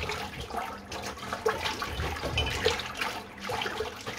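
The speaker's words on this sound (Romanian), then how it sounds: "Hai că s-a încărcat căldarea cu apă." Water pours into a large bucket to make sugar syrup for bees, a continuous rushing, splashing flow heard close and steady throughout.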